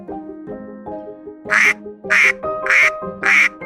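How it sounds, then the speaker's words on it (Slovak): A male duck, a drake, gives four loud, raspy quacks in an even rhythm, close by, after a few softer tonal sounds. "Ja som samček káčer."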